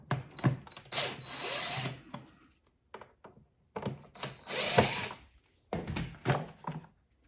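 A power screwdriver whirs in short bursts to back out four Phillips head screws from the HID low beam headlight ballast of a 2002-2006 Lexus ES300/ES330, with quiet gaps between each screw.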